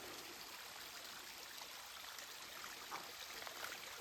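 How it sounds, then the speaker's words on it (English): Water rushes over the top of a waterfall as a steady, faint broadband wash, heard alone with no voices. "This is the top of the waterfalls."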